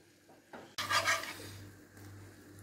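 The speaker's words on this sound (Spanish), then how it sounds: "Y la vamos a freír bien en la harina para que no sepa crudo." Flour frying in butter and oil in a pan as the roux for a béchamel for meat cannelloni, stirred with a utensil, giving a soft scraping sizzle that swells after a sudden start and then settles into a quiet, steady hiss.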